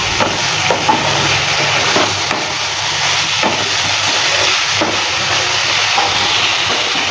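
Elephant foot yam curry being stirred in a pan, a loud steady hissing sizzle with periodic scraping knocks of the spoon against the pan.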